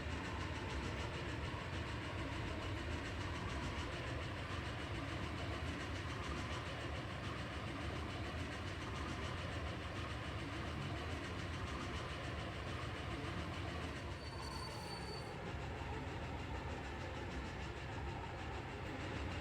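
A train in the Captain of Industry video game runs along its rails with a steady, low rolling rumble and faint rhythmic clatter, with no voices.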